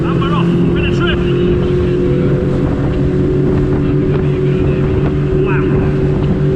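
A Saxdor 200 Sport motorboat launches at full throttle, its outboard engine a loud, steady droning roar with strong tonal hum, mixed with wind buffeting and water rush, and a voice briefly heard over it.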